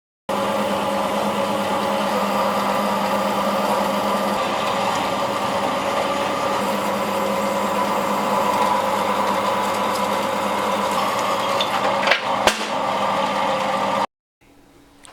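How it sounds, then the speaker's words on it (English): A workshop bandsaw cuts out motor mount pieces for a lathe, producing a steady, loud mechanical drone with a few sharp ticks near the end before it stops suddenly, with no voices. "I'm going to cut those out on the bandsaw"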